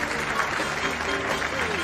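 An audience applauds steadily to welcome Governor Martin O'Malley, a dense, sustained wash of clapping mixed with crowd noise and some voices.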